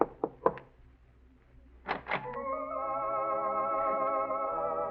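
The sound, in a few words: knocking lightly on an apartment door, radio drama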